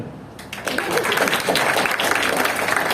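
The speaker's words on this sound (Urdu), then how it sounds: "اور ابھی تالیاں" Audience applause at a seminar, a dense wash of clapping that starts suddenly and stays loud and steady throughout.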